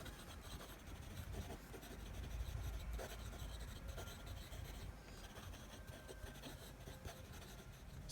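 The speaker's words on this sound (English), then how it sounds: "Quick writing." A Kaco Balance fountain pen writes quickly on paper, giving a continuous soft scratching rasp with faint nib strokes, close and steady throughout, with no talking.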